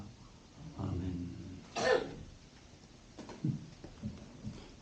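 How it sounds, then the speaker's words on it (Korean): A few sharp coughs and throat clearing, close and distinct, separated by quiet pauses. "아주 기침하는 소리가 아름다웠어요."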